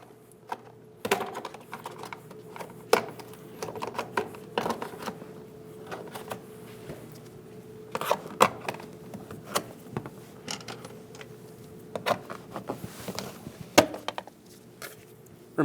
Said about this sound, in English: Go down the line and pop all of your clips.